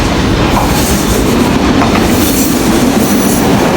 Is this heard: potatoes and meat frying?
no